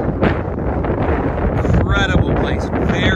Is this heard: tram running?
no